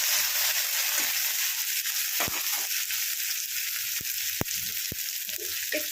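Tomato frying in hot oil with cumin seeds and a bay leaf, a constant loud sizzle and crackle broken by a few sharp pops and spatters.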